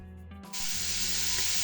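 After a quiet moment, shredded cabbage hits a hot frying pan and a loud, steady sizzle takes over, with a small clatter at the very end.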